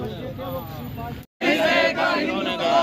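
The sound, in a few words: crowd chanting slogans against Modi at a Congress protest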